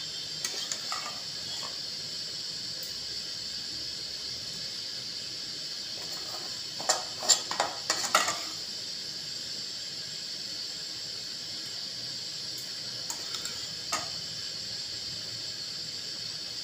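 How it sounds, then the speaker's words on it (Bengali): Fried curry paste is stirred into egg khichdi in a pot: a faint, steady sizzling hiss with a brief cluster of scraping stirs near the middle and a few light knocks later. "খিচুড়ির তরকারি কষাটা আমি এর সাথে মিশিয়ে দিচ্ছি, তোমরা দেখো"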